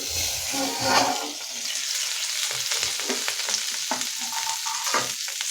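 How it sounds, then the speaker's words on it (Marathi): Stuffed okra filled with spiced masala, shallow-frying in a little oil in a pan, giving a steady close sizzle with faint crackles throughout. "म्हणजे व्यवस्थित दोन्ही साईडनी व्यवस्थित फ्राय होते"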